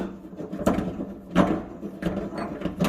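A kitchen faucet nut being unscrewed under a sink, giving a few clicking, grinding metal turns in separate bursts, close and moderately loud with no talking.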